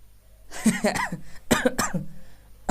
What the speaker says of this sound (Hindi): पढ़ाते पढ़ाते खांसी आ गया ना